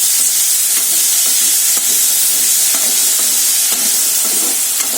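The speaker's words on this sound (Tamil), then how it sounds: "கொண்டக்கடலை சேர்த்துட்டு 1 நிமிஷம் நல்லா கலந்து விட்டுக்கோங்க." Boiled chickpeas being stirred into a sizzling tempering in a pan for sundal, with a loud continuous fry hiss and scattered scraping taps of the spoon.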